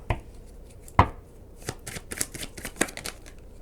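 Tarot cards being shuffled close up, a quick riffle and a series of soft flicks and taps, with no voices.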